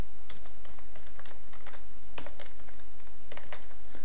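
Computer keyboard typing while writing C code, a quick irregular run of sharp key clicks in bursts with short pauses, fairly close and clear with no voices.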